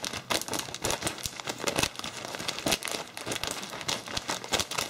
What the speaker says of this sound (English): I'm going to just cut away right at the top here